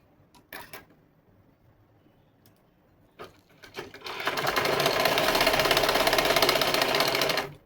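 A sewing machine runs a thin topstitch seam along trouser legs, starting after a few clicks and handling taps and then whirring steadily and fast up close.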